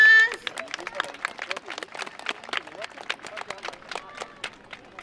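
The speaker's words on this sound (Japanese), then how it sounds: "宮城組です、大きな拍手お願いします" Audience applause at a YOSAKOI dance festival in Sakuragawa for the Miyagi-gumi dance team: dense, steady clapping from a crowd with voices mixed in throughout.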